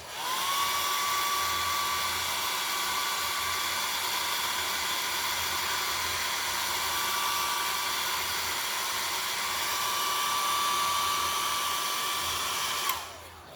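A hair dryer blows hair with a steady, loud whooshing hiss and a thin high motor whine, running continuously for several seconds before clicking off at the end.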